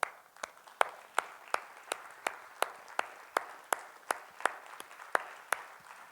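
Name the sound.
audience applause for a singing contestant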